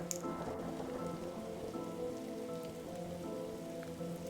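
Rain falling in a detective video game, a steady close patter of drops on a surface that continues without pause and with no other sounds.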